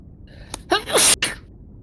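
A single sharp sneeze erupts close by after a brief intake of breath, loud and abrupt against a quiet room, followed by a short breathy tail.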